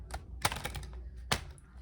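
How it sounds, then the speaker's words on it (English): A large deck of oversized cards is shuffled, giving a few sharp riffling bursts and soft clattering taps close by, with short pauses between them. "The cards won't even shuffle today."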